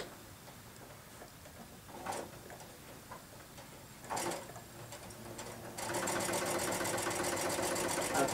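A sewing machine stitching fabric with a twin needle: quiet handling clicks at first, then the motor starts near the end and runs steadily with a rapid rhythmic clatter.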